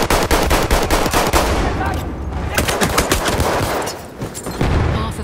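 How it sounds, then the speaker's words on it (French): Rapid machine gun fire from a Battlefield 1 battle, dense bursts of automatic shots rattling continuously and loudly through the whole stretch, with brief dips between volleys. "Vive la mitrailleuse!"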